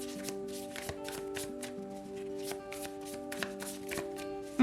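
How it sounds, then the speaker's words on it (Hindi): Tarot cards being shuffled by hand, a steady run of soft, quick riffling flicks close to the microphone over a faint sustained musical hum, with no talk. "तो चलिए शफल कर लेते हैं एरीज मेष राशि के लिए।"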